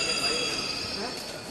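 A Delhi metro train rumbles and hisses steadily inside a busy station, with high whining tones from the rail and car equipment, loud and continuous for a moment.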